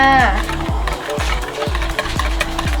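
A spoon stirs a steamed egg mixture in a hotpot with mala suki dipping sauce, giving repeated rhythmic scraping strokes roughly every half second, close and clear, with a low hum behind.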